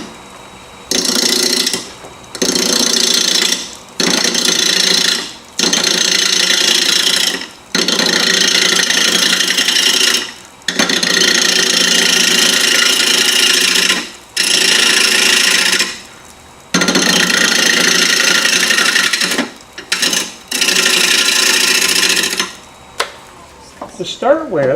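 Wood lathe spinning an irregular, out-of-round bowl blank as the gouge anchors, bevels and cuts, giving loud, broadband scraping bursts that start and stop repeatedly over about twenty-five seconds with short gaps between cuts.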